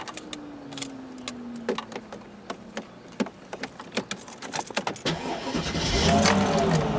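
A Mercedes-AMG S55 being restarted after its engine was switched off, with a brief starter crank that catches into a steady idle rumble. Clicks and small mechanical noises from inside the car come before it.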